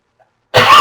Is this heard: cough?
yes